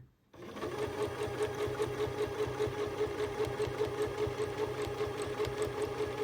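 A sewing machine stitches steadily at a moderate in-between speed while quilting with a ruler, a continuous close hum with rapid needle rhythm starting after a brief pause and running without interruption.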